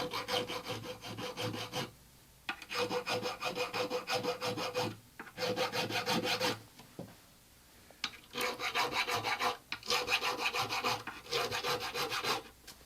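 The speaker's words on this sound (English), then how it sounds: "I use this file to cut off the corner of the fret end so it is not sharp." A small Swiss file rasps across the fret ends of a classical guitar in several bursts of steady back-and-forth strokes, close and fairly loud, with short pauses between passes and no talking.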